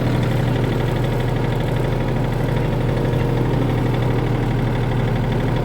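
Four-wheel-drive vehicle with a heavy hitch driving downhill on a farm, its engine a loud, close, steady low rumble with constant vibration and no pauses.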